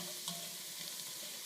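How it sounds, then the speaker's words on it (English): Chopped yellow onion and cubed sweet potato fry in hot oil as they are stirred around the pan, a soft, steady sizzle with faint scraping touches and a brief clatter at the end. "So we're just stirring this around for about 4 minutes until the onions turn translucent and soft"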